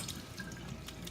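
Rice being rinsed under a running kitchen tap, a steady close splash of water with small trickling and dripping details throughout.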